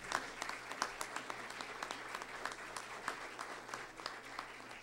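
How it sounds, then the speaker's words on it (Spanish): Audience clapping at a Mexican cultural talk honoring local chroniclers, a steady, fairly quiet patter of many hands in a hall, with a faint low hum beneath. "luego les damos un aplauso fuerte"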